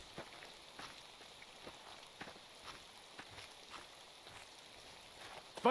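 Rain falls steadily in the Fallout video game, a soft, faint hiss with light scattered patters throughout and a brief louder sound at the very end.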